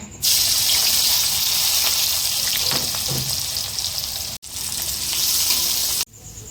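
Onions sizzling loudly in hot oil for a chicken curry, a dense steady crackle close to the pan that cuts off briefly twice, with no talking.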